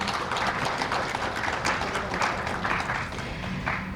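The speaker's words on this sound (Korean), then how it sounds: "여러분 따뜻한 박수 보내주시기 바랍니다" Audience applause at a Korean ESG award ceremony marking a media group's 10th anniversary, a steady dense wash of clapping held at an even level throughout.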